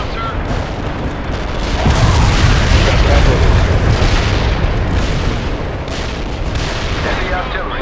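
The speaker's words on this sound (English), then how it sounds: "Heavy artillery." Heavy artillery pounds the battlefield in World in Conflict, a continuous, loud barrage of deep rolling booms and blasts that swells after the first couple of seconds, with faint voice chatter underneath.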